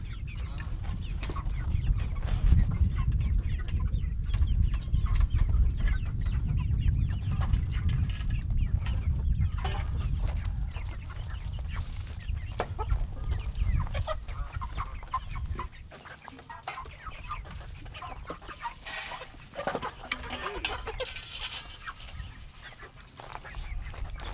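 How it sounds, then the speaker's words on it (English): A flock of two-month-old chicks on a homestead cluck and peep continuously, a dense chattering chorus over low rustling, fairly close and with no one talking. "This is our baby chicks, and they're about 2 months old, and their purpose is to give us eggs."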